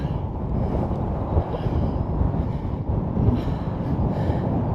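A sustained gust of wind buffets the microphone on an open moorland hilltop, a steady loud rumbling roar that holds for several seconds with no letup.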